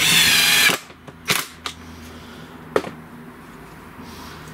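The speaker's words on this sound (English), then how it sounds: "Just got some normal screws and the impact driver, and I'm just going to fix these all in place." Impact driver sinking ordinary screws into wood while building a traditional bird table: one long loud burst of driving, then a few short sharp bursts and taps, close by with no talk.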